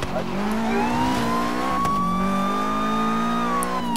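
A BMW drifts in Forza Horizon 3 with its engine revving high and steady, the pitch climbing and dipping as it slides, loud and close throughout.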